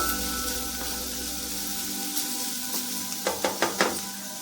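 Grated carrot stirred in a hot pan, a faint steady sizzle followed by a short run of light knocking scrapes from the spoon near the end, with no talk.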